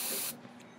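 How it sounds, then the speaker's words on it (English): An aerosol can gives one short, loud hissing burst that cuts off sharply, then there is quiet. "They are spraying,"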